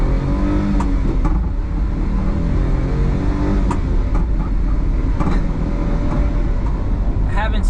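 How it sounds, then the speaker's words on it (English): A 1999 Daihatsu HiJet S210 kei truck drives along, its small engine droning steadily with road rumble and cabin noise, loud and close throughout, with faint voices mixed in. "First time driving an S210 1999 HiJet."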